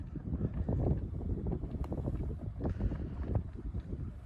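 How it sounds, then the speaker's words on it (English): Wind buffets the microphone on a golf course at Barnbougle on a windy afternoon, a steady, rumbling roar with gusty low thumps rising and falling throughout; no voices. "it's quite a windy afternoon this was, so you might be able to hear that in the audio"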